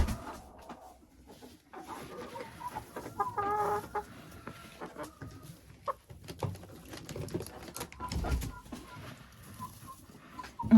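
Hens in a winter coop cluck and patter in bursts over about ten seconds, close and moderately loud, with scratching and shuffling between calls and no clear talk.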